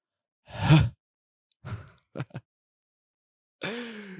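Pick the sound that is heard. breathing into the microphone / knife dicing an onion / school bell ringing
breathing into the microphone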